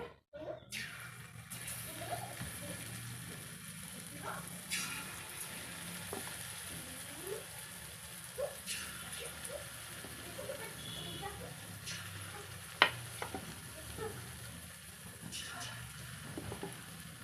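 Peanuts coated in gram flour batter fry in hot oil, making a soft continuous sizzle and crackle with occasional faint stirs and taps, fairly quiet throughout.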